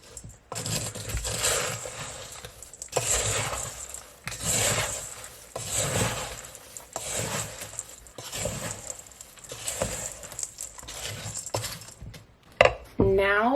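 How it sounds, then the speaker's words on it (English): Spoon stirring stuffing in a crockpot, repeated rough scraping and rustling strokes in a steady rhythm, close and moderately loud, ending with a brief clatter. "Let's give it a stir."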